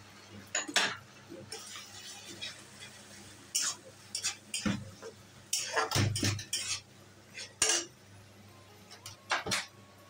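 Onion paste is stirred in a pan, giving irregular scrapes, taps and clinks of a utensil against metal, close by and fairly quiet.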